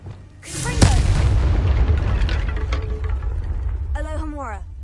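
A Confringo blast spell in Hogwarts Legacy detonates with a loud booming roar that fades slowly, starting right after a spoken spell name, followed by a brief musical chime.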